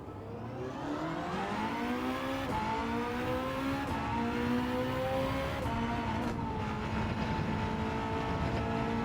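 Porsche 963 race car in Gran Turismo 7, its engine droning steadily with rising and falling harmonics as it accelerates and shifts, loud and continuous throughout with no talk.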